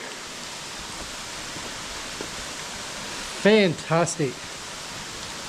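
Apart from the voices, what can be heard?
waterfall flowing in a cave, Blue Mountains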